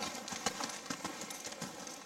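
During a riding lesson, a horse cantering in an arena gives a soft, rhythmic run of hoofbeats, faint and somewhat distant.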